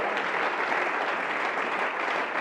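Applause from a church congregation, a dense, even wash of clapping that fills the short moment without a break.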